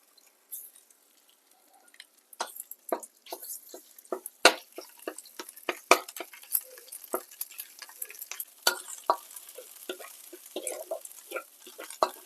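Curry paste stir-fried with garlic and chili in a pan, sharp scraping strokes and crackling sizzles in an irregular stream, close and moderately loud with no talk.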